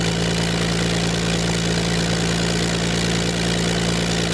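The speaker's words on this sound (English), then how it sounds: "what you see here now is gradually warming the engine up" An Allison V-1710 aircraft engine warms up on a dynamometer, producing a loud, unbroken, low droning roar with steady vibration and no voices.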